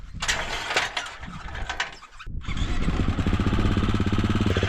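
A motorbike is wrestled off a vehicle out in the bush, with close metallic clanks, ratcheting and scraping, a brief pause, then a louder sustained mechanical rumble and rattle.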